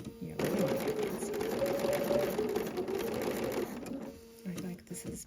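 Sewing machine top stitching through a thick quilt with a walking foot, running loud and steady for about three and a half seconds, then stopping and starting in short bursts.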